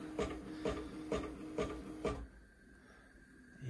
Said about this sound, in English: Yeah, printer.